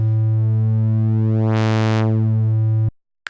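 A held Roland GAIA 2 synthesizer triangle-wave note with a filter swell that brightens and fades, then cuts off abruptly, followed by a brief click.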